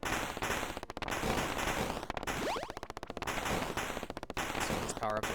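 Rapid machine gun power-up fire from the Journey of the Prairie King arcade game inside Stardew Valley, dense streams of retro gunshots in repeated bursts mixed with game music and effects, while a person talks over it.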